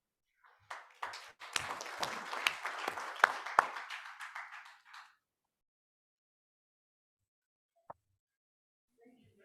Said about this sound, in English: I think she deserves another round of applause.